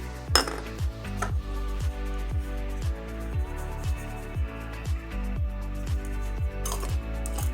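A spoon clinks steadily against a bowl while adobo light seasoning, onion powder and garlic powder are stirred into a chili pot pie filling, with regular scraping strokes about twice a second and no talking.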